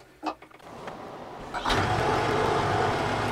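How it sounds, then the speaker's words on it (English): A tractor engine is started, with a few mechanical clicks and a brief cranking before the engine catches and settles into a loud, steady running rumble nearby. "So let's start it up and see what she does."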